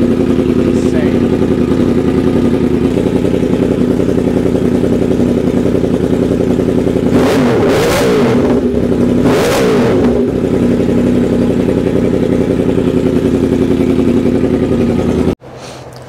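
A 2024 Yamaha R1 with an SC Project CRT exhaust idles loudly with a harsh, raspy note, then revs sharply twice in quick bursts before settling back and cutting off at the end.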